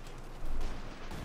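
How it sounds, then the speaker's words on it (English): A cannon shot fired through a house in Company of Heroes 2, a World War II real-time strategy game, heard as a short loud boom that swells and then decays into a rumbling tail. "Fine cannon shot in through the house."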